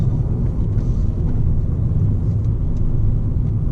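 A Ford Fiesta ST with a Peron Stage 1+ tune pulls hard in second gear, its engine a loud, steady rumbling drone heard from inside the car.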